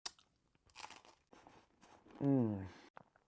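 Crisp crunches and chewing from biting into a fried Algerian pastry topped with pistachio shards, a few sharp bites close up, followed by a brief voiced murmur.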